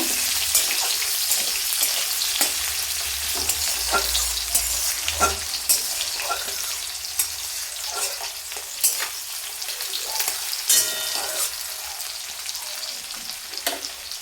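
Chopped onion fries in oil with a lively, close sizzle, while a spatula stirs and scrapes against the pan in repeated irregular knocks throughout, with no talking.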